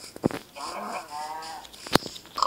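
Minecraft cow mooing in the video game, a couple of short low moos close by, with brief game clicks and faint talk around them.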